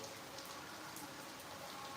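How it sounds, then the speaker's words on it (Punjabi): Steady rain falls in a village in a continuous soft hiss, even and unbroken, with no voices. "ਹੁਣ ਦੇਖੋ ਬਾਰਿਸ਼ ਸਟਾਰਟ ਹੋ ਗਈ ਹੈ ਇੱਕ ਵਾਰੀ ਫੇਰ"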